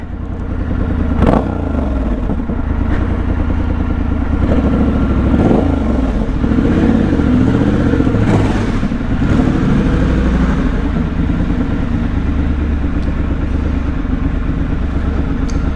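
A loud, close Triumph Scrambler 1200 XE motorcycle engine rumbling steadily, with a few revs and clattering bumps as it rides in through a doorway.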